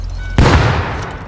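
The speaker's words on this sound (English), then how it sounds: "I'm gonna shoot the cannon." A single loud cannon blast fired from a boat in a modded Rust boat wars game, a sudden booming hit that rolls off into a fading rumble.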